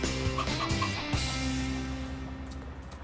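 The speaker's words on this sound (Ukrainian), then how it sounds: "Тримають курей в великій клітці." Chickens cluck nearby in short, overlapping bursts from a large cage in central Larnaca, Cyprus, with a low steady hum in the background.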